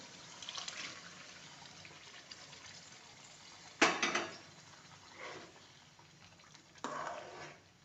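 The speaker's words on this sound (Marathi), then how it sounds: "जे आपले काजू आपण गरम पाण्यात भिजत घातले होते ना ते काजू टाकूया आपण पाण्यासहित टाकायचे" Soaked cashews are tipped into a pan on a high gas flame together with their hot soaking water for a cashew curry, giving a few soft splashing, pouring bursts over a low background hiss, with no talk.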